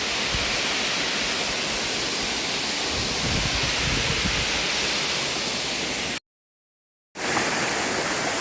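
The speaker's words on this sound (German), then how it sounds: "dann geht's zum Wasserfall." A jungle waterfall roars as a loud, steady broadband rush of falling water that fills the whole clip, close and constant, with a brief full dropout near the end before the roar resumes.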